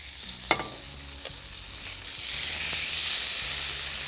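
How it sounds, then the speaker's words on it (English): Roast beef sears in oil in a hot pan, a steady close sizzle and hiss that swells louder partway through, with a few soft clicks and bumps of handling and no talking. "I think it's time to hit our roast up and get a little bit more of those edges browning now"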